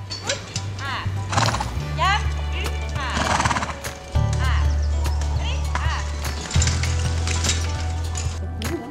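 A roughly 900 kg horse being led by hand whinnies loudly several times while its hooves clip-clop close by, with a low steady hum running underneath.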